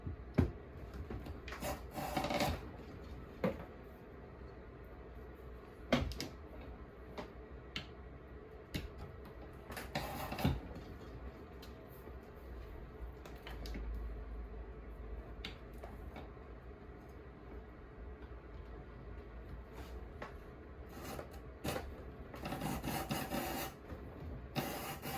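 A leather whip fall strip is split down to 3.5 mm thickness, giving faint scraping and rubbing sounds with scattered sharp ticks and clicks, quiet and close, without talk.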